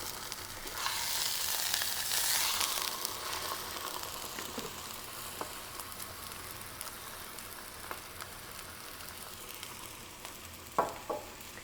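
Meat browning in a hot pan for Cuban ropa vieja, a steady hissing sizzle that is loudest early on and then settles into a softer crackle, with a few sharper pops and spatters near the end and no talking.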